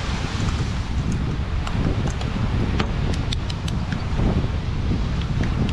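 Beach wind buffets steadily and close, with a constant low rumble and faint rustling throughout and no speech.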